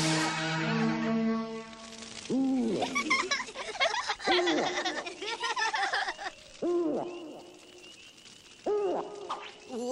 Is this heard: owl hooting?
yes